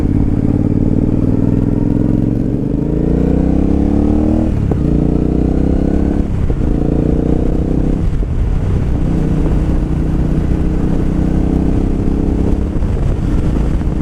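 A Triumph America motorcycle out on the road, its engine loud and close with rising revs and gear changes, wind buffeting the microphone throughout.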